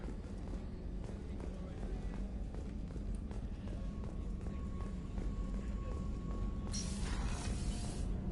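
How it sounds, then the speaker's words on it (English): Footsteps tread steadily across the deck of the Normandy starship in Mass Effect 2, a continuous run of close steps over a low ambient hum, ending with a brief brighter hiss. "I'm not used to hearing my footsteps when I walk."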